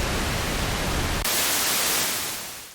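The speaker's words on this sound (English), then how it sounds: "I'll also show you too that your noise source works." White noise from the noise source of a restored Minimoog synthesizer, a loud steady hiss that shifts in tone partway through and then fades away.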